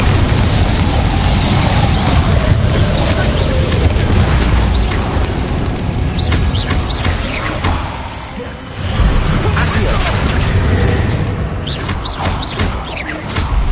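A Bombarda spell erupts in Hogwarts Legacy as a loud, sustained, rumbling blast that fills the scene with heavy low roar and debris-like crackle before easing briefly and surging again.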